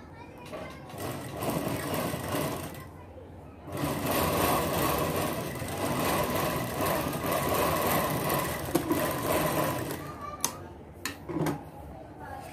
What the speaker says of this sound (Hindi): एक किनारे हम यहाँ एक सिलाई लगाएंगे।